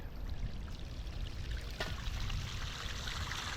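Water pours steadily into a backyard pond, a continuous rushing splash that stays fairly even from start to finish with no voices over it.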